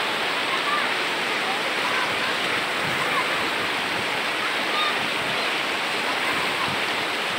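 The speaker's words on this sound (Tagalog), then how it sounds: "Grabe guys, yung agos." A Majayjay river in Laguna rushes hard over rocks, a loud, steady roar of churning current that fills the whole stretch without pause.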